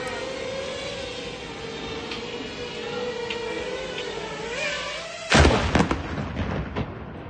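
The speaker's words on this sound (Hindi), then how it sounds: "वो ड्रोन बिजली की तेजी से आया और उनके ठीक ऊपर फट गया" A drone explodes over Ukrainian positions in one sudden, loud blast that breaks through a drone's droning whine and low rumble, followed by a few seconds of crackling, rumbling aftermath.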